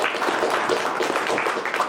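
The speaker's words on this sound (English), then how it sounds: "So let's give a nice round of applause and welcome Carolyn Wilkerson" Audience applause at an anti-imperialism political meeting, welcoming a speaker to the podium: dense, steady clapping from a crowd, moderately loud and continuous, with no one talking over it.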